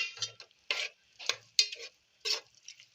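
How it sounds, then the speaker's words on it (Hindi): Prawn masala spices being stirred in a pan: close, rhythmic scraping strokes of a spoon in short separate bursts, with brief quiet gaps between them. "अब हम इसको मिक्स करेंगे अच्छे से"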